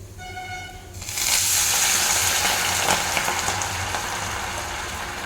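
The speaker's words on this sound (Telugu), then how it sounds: "ఇప్పుడు ఇందులోనే వాటర్ వేస్తున్నా ఒక కప్పు రవ్వకి ఒక కప్పు వాటర్ వేస్తున్నానండి" Water poured into a pan of frying carrot and onion for semiya rava upma: a faint hum, then a sudden loud rush and hiss of liquid hitting the hot pan that carries on as a steady bubbling sizzle.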